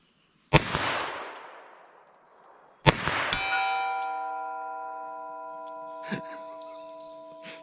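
A hand-loaded .32 S&W Long round fired from a pocket pistol hits a target: two sharp, loud shots a couple of seconds apart, the second followed by a long, bright metallic ringing that slowly fades.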